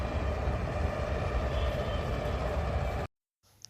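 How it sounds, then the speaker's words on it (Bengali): A train rumbles past at close range near a sunflower garden in Uttara Diabari, a dense continuous roar lasting about three seconds before cutting off abruptly into quiet. "এই যে ট্রেন যাচ্ছে"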